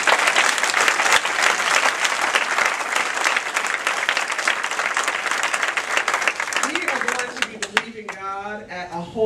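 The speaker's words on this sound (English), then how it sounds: "Somebody needs to clap a little bigger." An audience at a church Watch Night service breaks into loud, sustained applause and cheering, dense clapping throughout, then trails off near the end as a voice begins speaking.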